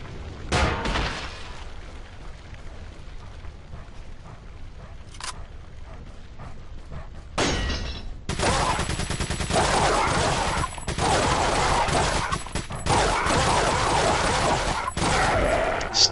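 TMP machine-pistol gunfire in Resident Evil 4, sharp rapid bursts of shots, loud and close, with scattered single pops early and denser sustained firing in the second half, mixed with game effects.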